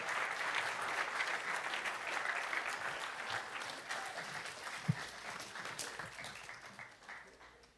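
A congregation at a Friday night Shabbat service applauds people walking back to their seats. The sustained applause sounds somewhat distant and gradually tapers off toward the end.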